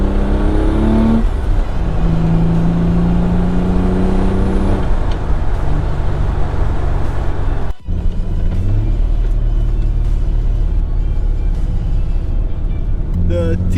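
A fully built Nissan 300ZX with a T56 gearbox and twin-disc clutch drives on the road, its engine rumbling loudly and rising in pitch as it accelerates through the revs, with a steady low drone throughout.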